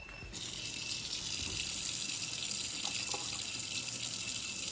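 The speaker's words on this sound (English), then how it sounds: "we're gonna go to the sink and I'm gonna check the hot water" Steady hiss of hot water pouring from a faucet into a sink, continuous and close, with a faint clink partway through.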